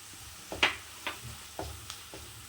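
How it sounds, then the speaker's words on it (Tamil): Onions for an egg curry are stirred in a pan with a few sharp scraping strokes over a quiet background sizzle, close and intermittent, roughly five distinct stirs. "வெங்காயம் நல்லா வதங்கிருச்சு"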